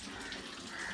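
Water flows from a stone water spout in a steady, continuous rushing stream, close and even with no pauses.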